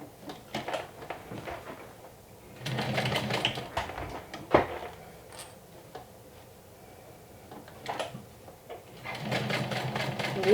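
Sewing machine stitching down the connectors on a sew-along bag, rapid mechanical ticking in several separate bursts with quiet pauses between, close and fairly soft.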